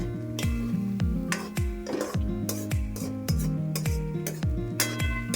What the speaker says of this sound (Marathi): चम्मच चालवत राहायचे आहे.